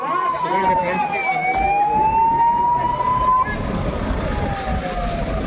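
A loud ambulance siren wails close by at a fire scene in Dausa, India, its pitch sweeping up and down over a steady rumble of traffic and engine noise.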